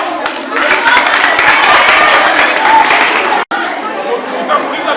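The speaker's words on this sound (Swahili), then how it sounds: "Makofi tena." An audience at a gala in a Congolese refugee camp in Musasa, Burundi claps loudly and continuously, mixed with crowd chatter; the applause cuts out for an instant, then carries on.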